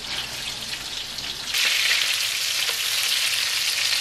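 Meat sizzling and frying in a pan for keşkek, the Turkish wheat and meat dish, a steady broadband hiss that swells louder partway through and continues close and alone with no talking.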